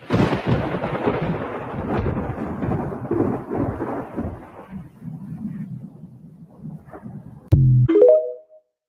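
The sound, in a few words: thunder during a lightning storm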